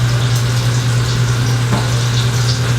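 Grouper fillets frying in a pan give a steady, close sizzle with a continuous crackle and a low hum beneath, and no voices.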